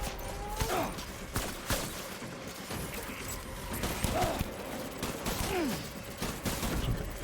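Gunfire from the video game Death Stranding: several short sharp bursts scattered across a busy, steady game soundscape, moderately loud, with no voices over them.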